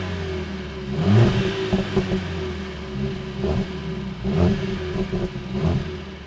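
Mercedes CLA 45 S AMG with its 2.0-litre turbo four-cylinder, a steady mid-pitched engine and exhaust drone with several swelling revs and pulses, close and fairly loud, no voices.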